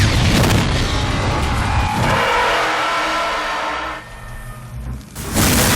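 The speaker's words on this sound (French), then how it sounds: "Maintenant, regardons comment il filme une explosion dans Time and Tide." Explosion sequence from the action film Time and Tide: loud booming blasts with engine-like roars and whooshes, a sharp shift partway through, a brief dip, then a renewed burst at the close, no voices.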